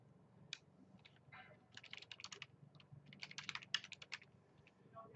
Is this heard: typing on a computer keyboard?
yes